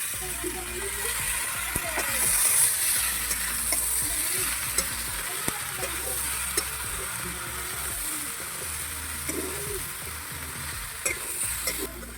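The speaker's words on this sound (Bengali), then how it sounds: "কাঁচা লঙ্কা গাজর ক্যাপসিকাম সবগুলো দিয়ে দিচ্ছি একসাথে" Green chilli, carrot and capsicum frying together in a pan for a vegetarian mixed-vegetable dish, a loud continuous sizzle with intermittent stirring scrapes and occasional clicks of the utensil.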